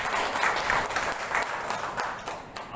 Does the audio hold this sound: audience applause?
yes